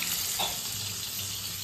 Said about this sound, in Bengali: এই যে ইলিশ মাছ ভাজা হচ্ছে এখানে